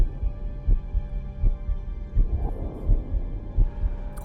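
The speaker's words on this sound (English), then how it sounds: "I do like the way they put this sound effect in. The heartbeat." Slow, steady heartbeat in Star Trek: Voyager – Across the Unknown, deep throbbing thumps repeating roughly every 0.7 seconds over a low hum, close and alone with no talk.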